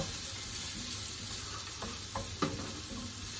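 Finely minced garlic sizzling in hot oil while being stirred with a fork for sautéed Hokkien noodles, a steady close frying hiss with a few light scrapes and taps of the fork.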